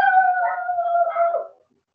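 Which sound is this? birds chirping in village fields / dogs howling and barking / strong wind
dogs howling and barking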